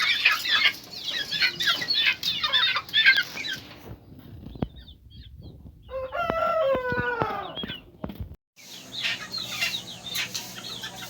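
Hens in a small backyard poultry pen cluck and squawk in busy bursts, then a rooster lets out a long, close crow, with more scattered clucking and chatter from the flock around it.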